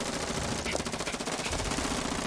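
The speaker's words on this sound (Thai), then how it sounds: "ไมเกล ยิงใส่เลยเหรอ" Rapid bursts of video game gunfire from Gravity Rush 2 rattle continuously at a steady loud level, with faint voices mixed in.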